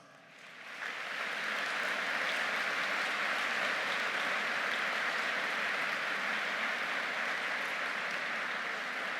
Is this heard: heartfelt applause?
yes